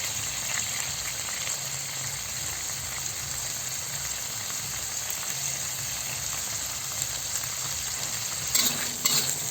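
Pork, potatoes and carrots sauté in a pan with tomato sauce, giving a loud, dense, unbroken sizzle close by, with a brief clatter of stirring near the end and no voices.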